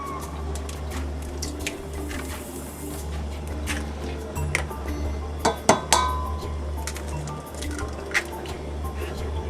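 Eggs with salt, pepper and ricotta mashed in a bowl, soft squishing broken by clinks of a utensil against the dish, close and moderately quiet, with a few sharper taps midway.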